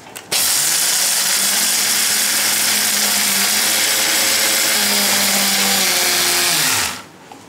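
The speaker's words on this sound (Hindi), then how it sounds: "ఫస్ట్ ఇది పౌడర్ చేసేయాలి" A kitchen mixer grinder powders sesame seeds in one loud, continuous whirring grind that starts abruptly, holds steady for several seconds and winds down at the end, with no voices.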